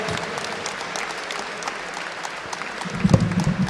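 An audience applauds the losing team of a stage competition, a steady dense wash of clapping that swells louder near the end, with no voices over it.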